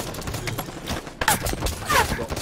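Assault rifle fire in Halo 5, short rapid bursts of shots over game sound, with a louder cluster near the middle and another toward the end, close and punchy.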